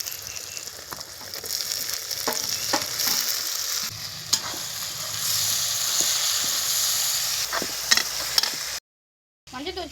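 Green chilies and tomatoes sauté in a hot pan with a steady, loud sizzle and occasional stirring scrapes. A short silent gap comes near the end, and no one speaks.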